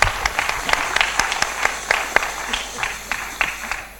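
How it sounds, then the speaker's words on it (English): An audience at a gala bursts into steady, dense applause, many hands clapping continuously at close range. "A big round of applause, sir."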